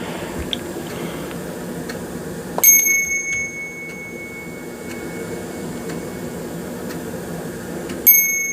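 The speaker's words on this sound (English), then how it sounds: "Let me ring a little bell here." A small bell gives two bright, ringing strikes spaced several seconds apart, the first letting its clear tone hang and fade, over a quiet room hum with no talking.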